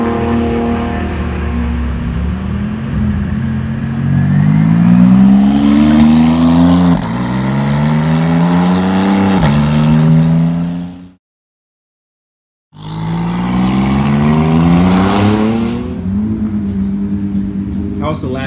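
A Porsche GT2 RS fitted with an 800 HP pump-gas turbo package screams along a race track, its engine climbing through the gears in loud, rising surges, cut by a brief silence before the revving picks up again.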